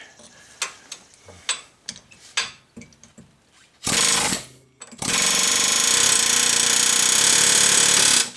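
A series of sharp metallic taps and clanks, then a loud continuous pneumatic air hammer working on a car's knuckle that bursts briefly, pauses, and returns in a long sustained rattle.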